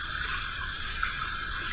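Water runs from a tap into a bathroom sink during a shave, a steady, even rushing splash at close range with no talk over it.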